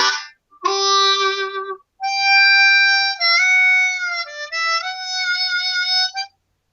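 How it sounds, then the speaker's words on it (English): A country tuned harmonica plays sustained, bright notes with bends and a slight wavering vibrato, loud and close, with no talking. "Here's a country tuned harmonica."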